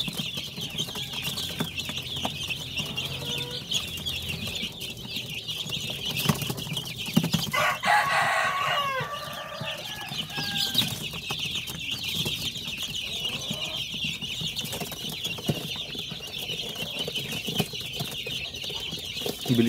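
Darag native chickens and chicks in a backyard cluck and peep in scattered bursts, with a brief flurry of wing flapping partway through against a steady outdoor background.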